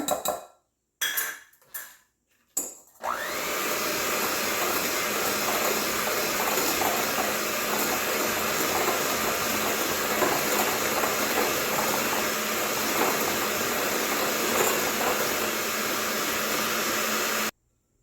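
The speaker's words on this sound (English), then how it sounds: "So now I'm going to beat my egg yolks with a half a cup of sugar." An electric mixer beats egg yolks with half a cup of sugar in a bowl, starting with a few clattering bumps of the beaters before settling into a loud, steady whirring drone with faint rattling against the bowl.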